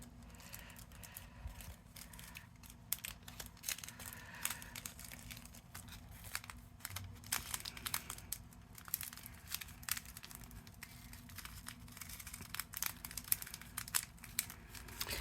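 Soft crinkling and crumpling of a Crystal Art Christmas card kit being folded up, quiet scattered rustles and small crackles close by, with no talking.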